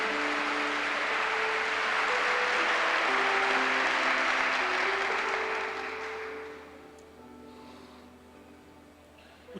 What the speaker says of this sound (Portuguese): Você pode dar um aplauso ao Senhor pela sua palavra.